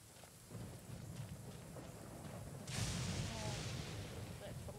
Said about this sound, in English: Man, that lightning's frightening.